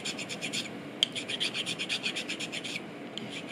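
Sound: filing a soot-blackened egg shell with a file

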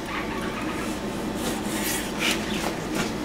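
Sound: knife slicing fajita steak thinly lengthwise

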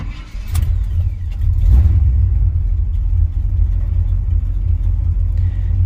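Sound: 1979 Chevrolet C10 squarebody truck engine starting and idling

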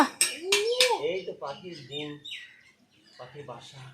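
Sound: bird screeching

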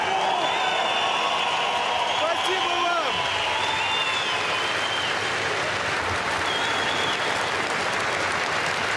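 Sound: applause

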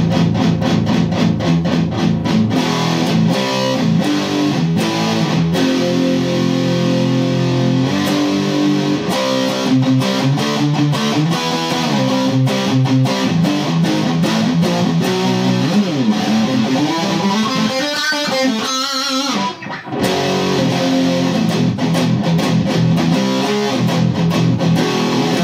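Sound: electric guitar solo through Joyo effects pedal at full gain

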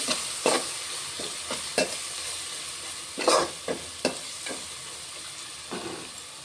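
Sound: stirring coriander powder into frying rice masala

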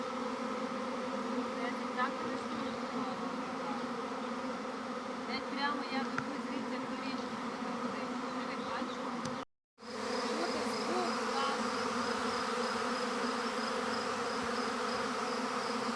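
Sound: swarm of honey bees buzzing

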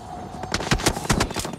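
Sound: gunfire in a video game

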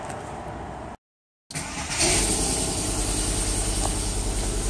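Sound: car engine starting and idling, VW/Skoda/SEAT/Audi automatic

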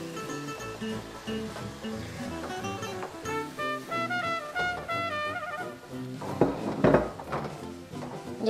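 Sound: plate and frying pan handled while flipping a fish tortilla

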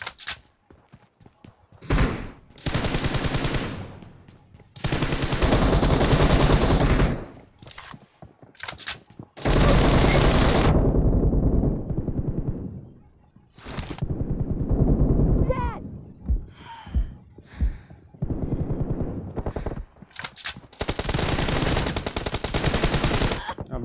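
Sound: gunfire in the video game BGMI

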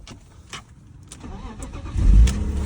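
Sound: old car engine starting

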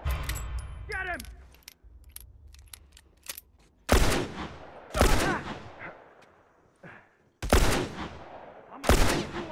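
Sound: gunfire in video game The Last of Us

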